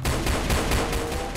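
Rapid gunfire in a Roblox roleplay game, a dense burst of repeated shots filling the short moment at steady high loudness with no talk.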